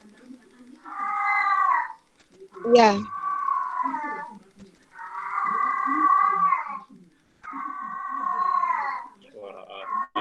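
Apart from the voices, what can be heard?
cat meowing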